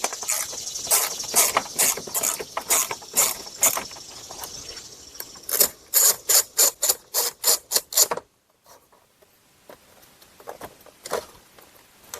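A hand ratchet loosens a 7 mm bolt on the active grille shutter of a Buick LaCrosse or Chevy Malibu, a loud close run of rhythmic clicking strokes that stops abruptly and gives way to faint quieter handling.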